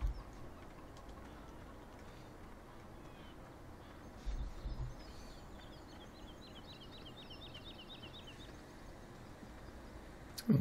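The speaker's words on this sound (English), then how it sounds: "Can hear the birds chirping away in the background." Gentle bird chirps drift through the ambient soundscape of the video game Farming Simulator 17, faint high tweets repeating in a steady series over a continuous low background hum.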